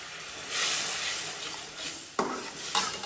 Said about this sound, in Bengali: এটাকে খুব ভালোভাবে কষিয়ে নিব